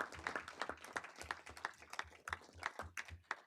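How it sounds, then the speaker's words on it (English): Warm applause at a university board of trustees meeting: a steady patter of many hands clapping together in an indoor room, moderately loud and continuous throughout. "Let's give him a round of applause just for that."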